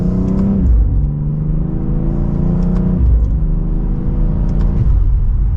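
A 2024 BMW X4M accelerates hard from second gear, its engine and exhaust rising in pitch through three quick upshifts, each marked by a brief dip, loud and close from inside the cabin.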